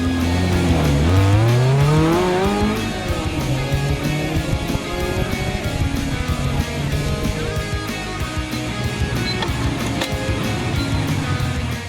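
A drift car's engine revs hard and loud while tires squeal continuously, with rising and falling engine pitch throughout.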